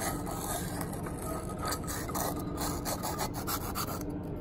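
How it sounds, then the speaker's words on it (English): Worn, crusty throwout bearing from a Detroit Diesel spun by hand, giving a continuous gritty rasping and grinding with faint irregular ticks, close and fairly quiet. "This is the throwout bearing. Very crusty. I don't know if you can hear that or not."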